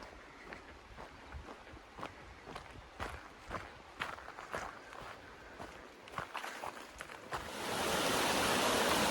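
Steady footsteps crunch along the Appalachian Trail in the Great Smoky Mountains, North Carolina, at walking pace, then the broad rush of a waterfall swells up and takes over near the end.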